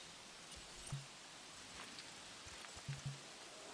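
Rain falls in the dinosaur park game Jurassic World Evolution as a soft, steady hiss of drops, with a few faint low thumps scattered through it and no talk.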